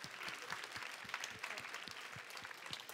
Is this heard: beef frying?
no